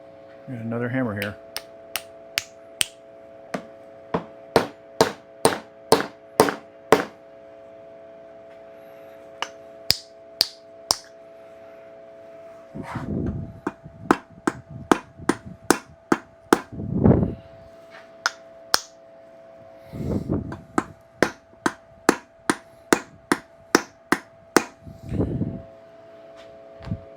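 A hammer strikes a hatchet head onto its wooden handle in sharp, ringing blows, fired in quick bursts with pauses, while someone talks briefly between series of hits over a steady hum.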